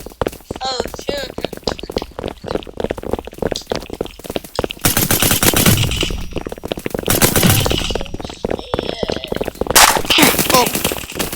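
Airsoft guns fire in rapid bursts during an outdoor airsoft battle, with sustained clattering volleys and sharp snaps of varying distance, mixed with frequent talk and shouting between players.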